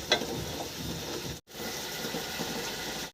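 Chicken sautéing for korma in a pan, with a soft, steady sizzle and faint scraping. A brief gap interrupts the sound midway before the sizzling resumes at the same low level.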